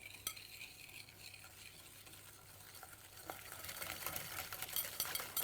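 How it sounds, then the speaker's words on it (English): Egg yolks and caster sugar whisked in a bowl, a faint rapid rattling of the whisk that grows busier and louder toward the end, heard alone without voices. "And you just want to whisk it."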